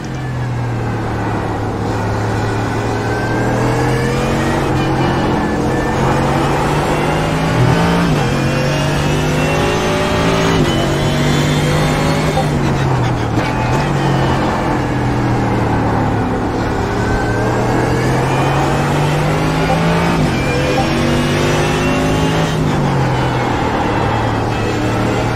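A simulated Mercedes AMG GT3 race car in iRacing, engine note loud and sustained for the whole stretch, pitch rising and falling through gear changes with no pauses.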